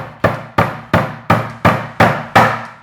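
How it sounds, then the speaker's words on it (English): Decorative upholstery nails are tapped into the ends of wooden pieces, with seven sharp, evenly spaced hammer blows ringing close and loud, each fading quickly before the next. "I found these beautiful decorative upholstery nails that we're gonna use to just tack into the ends of each piece."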